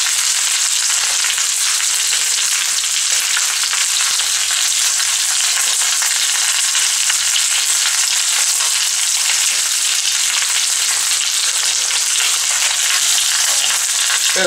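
Pieces of chicken fry in hot oil, giving a loud, steady crackling sizzle that continues without a break.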